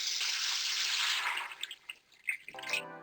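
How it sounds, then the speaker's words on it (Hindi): Yakhni stock pours into a pot of fried masala for pearl pulao, a steady liquid rush for about a second and a half that thins into scattered splashes and drips. "ऊपर मैं इसके अंदर डालूंगी यखनी।"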